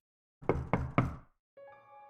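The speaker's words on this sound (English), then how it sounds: "Then there was a knock at my door." Three firm, evenly spaced knocks on a door ring out close and clear against silence, followed by a soft low tonal hum.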